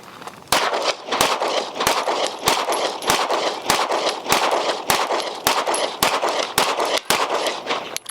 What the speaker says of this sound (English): Running that gun like it's what you carry.